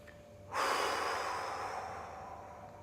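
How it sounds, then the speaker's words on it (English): A single deep breath, a sudden close inhalation that starts sharply and then trails off slowly into a long, fading breathy exhale, alone with no talk. "Close your eyes, take a deep breath."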